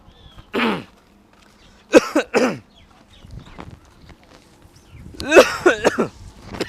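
A man coughs and clears his throat in a Bundeli comedy sketch: one short cough, then a quick pair of harsh coughs, then a longer rough fit of several coughs, all close and loud over quiet background.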